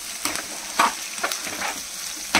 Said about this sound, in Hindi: है कि प्याज फ्राई करेंगे।